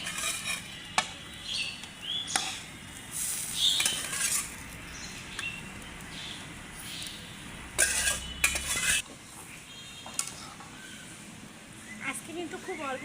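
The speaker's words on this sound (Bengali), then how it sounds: "ঝোল দেওয়া শেষ, এখন হচ্ছে মাছগুলো দিয়ে দেবো।" Koi fish going into a pot of curry broth for a koi and taro curry, with soft stirring, scraping and clinking of utensils against the pot and a faint sizzle throughout.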